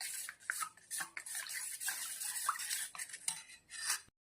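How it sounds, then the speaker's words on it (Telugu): A spoon scrapes and swirls through a thick mixture in a bowl while cornflour is stirred in for carrot halwa, a close, soft run of repeated scraping strokes that stops abruptly. "ఈ కార్న్ఫ్లోర్ను వేసుకొని ఉండలు కట్టకుండా నీట్గా మొత్తం కలుపుకోవాలి."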